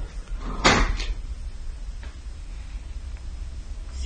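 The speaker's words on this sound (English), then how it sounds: "The door to the attic somehow opens on its own" An attic door swings open on its own in a quiet house, giving one sharp creak-and-knock at close range, followed by faint low room noise.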